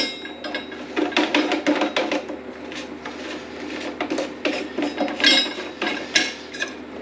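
Metal plumbing parts clinking and scraping as a plate is fitted and a back nut is tightened on a waste fitting, close-up handling noises in irregular bursts without talk.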